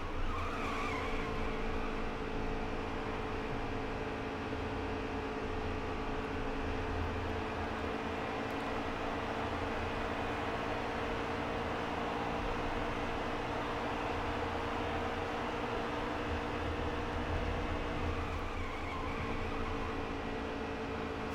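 Race truck tires squeal in NASCAR Heat 3 at Kansas, a sustained skidding whine layered over a continuous, loud engine drone that holds steady throughout, with no talking.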